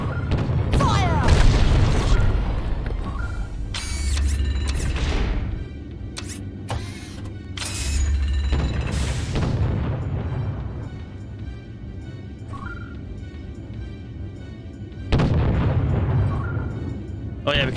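Ship cannons blasting during a space battle in Treasure Planet: Battle at Procyon, several loud booming volleys in separate bursts with sharp metallic clanks between them, plus some voices.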